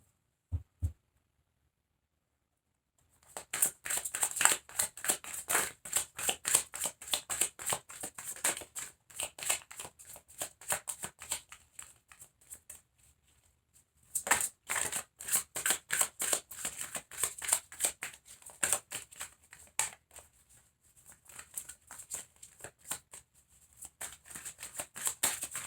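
Tarot cards are riffled and shuffled in rapid, crackling bursts, close up, with a pause in the middle before the shuffling resumes; no talking.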